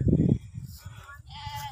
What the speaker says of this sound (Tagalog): Nandyan yung kambing.